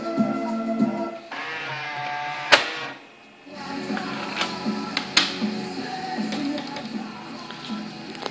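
Becker Mexico Electronic 830 car radio cassette deck switching sides and winding tape, giving a steady whirring hum with sharp mechanical clicks and clunks from the mechanism, close and moderately loud.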